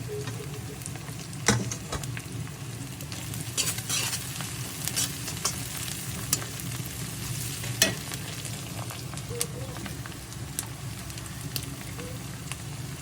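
Mint and curry leaves frying in a pan for chicken fried rice, a steady crackling sizzle with scattered sharp pops and occasional scraping stirs, close and even throughout, with no talk.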